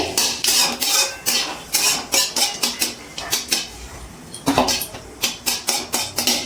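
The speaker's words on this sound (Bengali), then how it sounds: "ফোড়নটা একটু নাড়াচাড়া করে নিচ্ছি তেলে" A dry red chilli and cumin tempering stirred in hot oil, heard as a brisk run of sharp metallic spoon clinks and scrapes against the pan, close and rhythmic with no voices.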